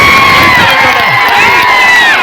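A large outdoor crowd at a political road show roars with loud, continuous cheering and shouting, high voices and whoops blending into one dense wall of noise.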